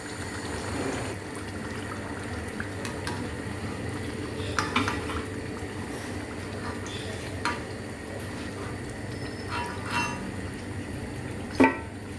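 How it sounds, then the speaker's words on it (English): Murukku (pottukadalai chakli) deep frying in hot oil, a steady soft bubbling and sizzle running throughout at low level, with occasional faint utensil clinks and one sharper knock near the end. "Once this bubbling sound stops completely, that means our murukku is well done from inside as well as from outside."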